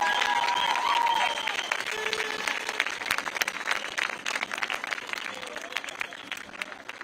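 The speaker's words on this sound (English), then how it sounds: "give yourselves a big round of applause for turning up and showing solidarity this evening" Crowd applause at an evening street protest, bursts of clapping from a gathered group that begin strong and gradually thin out, with a voice speaking briefly at the start.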